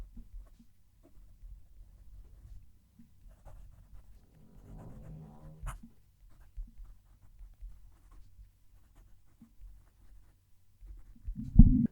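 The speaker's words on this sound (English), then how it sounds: "This is a nice pen to write with." A fountain pen nib writes across paper, giving close, soft scratchy strokes with small pauses between words, ending in a louder handling bump.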